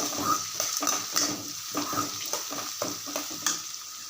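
Onions sautéing with salt and asafoetida in coconut oil for rava upma: a soft, crackling sizzle close by, broken by light scraping taps of a spoon against the pan, with no voices.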